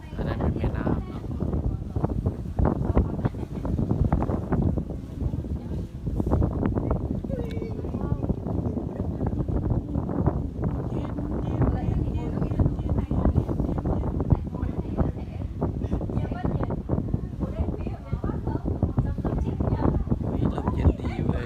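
Cold wind blows across a rooftop, producing a steady, loud low rumble and buffeting on the microphone for the whole stretch, with voices talking underneath.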